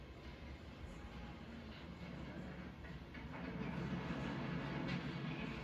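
A low, steady rumble of a heavy train being crushed in a film, with faint metallic clatter, building slightly louder toward the end, no voices.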